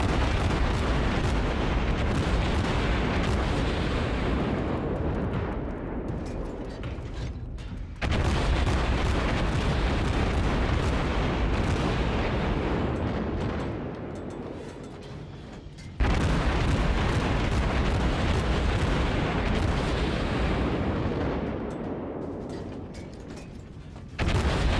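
Naval guns fire in the World of Warships game as three loud, booming salvos spaced about eight seconds apart, each one rolling and fading slowly into the next, with no voices heard.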